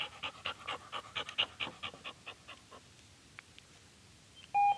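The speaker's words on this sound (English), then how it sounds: "you can tell he's panting a lot" An excited dog pants rapidly and steadily, close and fairly quiet, the rhythmic breaths fading out partway through, with a brief electronic beep at the end.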